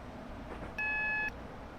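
AWS warning tone sounding in the cab of a Class 465 train, a steady electronic beep lasting about half a second, loud over the quiet rumble of the cab.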